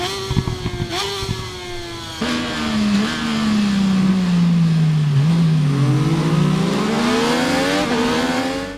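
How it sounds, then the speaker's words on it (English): A motorcycle in the racing video game Ride 5 revs, then decelerates with its pitch falling, exhaust pops crackling over the engine before the revs climb again; loud and close, with no talking. "The deacceleration and the exhaust pops are fantastic."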